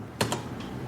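A computer keyboard is typed on indoors: two quick keystrokes close together, then a single fainter tap, each a crisp click against a quiet background.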